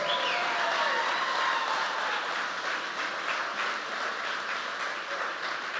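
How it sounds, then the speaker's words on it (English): An audience at a public event with Congresswoman Maxine Waters applauds for Mac Wilburn in a dense, continuous wash of clapping that holds steady throughout, fading slightly toward the end. "Let's give a big round of applause to Mac Wilburn."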